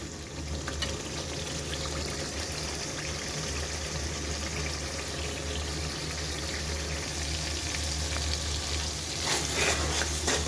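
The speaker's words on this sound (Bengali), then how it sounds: "তারপরে এই যে মশলাগুলো ভালো মতো কষাবো আমি" Spices being fried and stirred in a pan for a beef curry, a dense, continuous sizzle and bubbling at an even level throughout, with faint scraping now and then and no talking.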